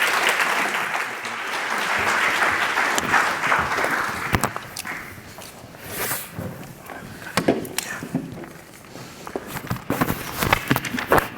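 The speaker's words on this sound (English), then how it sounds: "Let's give them a round of applause" A room of attendees at a diversity event applauds for about four seconds, a dense burst that thins out into scattered claps and footsteps of people walking onto a stage.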